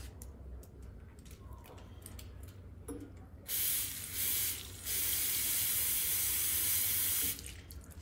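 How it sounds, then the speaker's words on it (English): A tap runs in short bursts and then in a steady stream as hands are washed beneath it, a close hissing splash over a low background hum, with no talk. "No, we will wash hands here."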